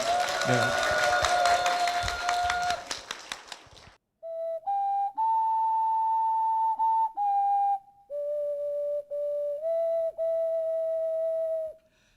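Audience applause inside a church, loud and dense for about four seconds, then fading out and giving way to sustained melodic notes from an ocarina.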